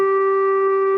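A clarinet in its low register holds a single steady, clear note at close range, alone and fairly loud, with no audible change of pitch in the brief stretch.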